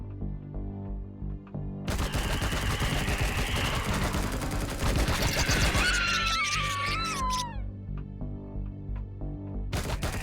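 A minigun fires in sustained bursts in the space survival game Empyrion, a dense, loud mechanical rattle with whining, warbling tones over it, then a cutoff and a brief resumption at the end.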